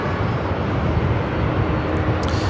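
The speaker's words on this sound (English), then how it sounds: "Seeing the Delta 767" A Delta Boeing 767-300ER airliner at LAX airport, its engines giving a steady, loud broadband roar that holds level throughout without a break.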